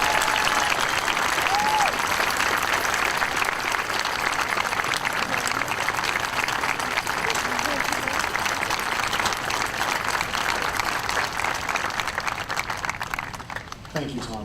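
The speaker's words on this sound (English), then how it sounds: "I'd like a round of applause for Dr. Gorman and his 5 years of leadership" An audience at a high school graduation ceremony applauds in a large hall, sustained dense clapping for over ten seconds that thins out at the end.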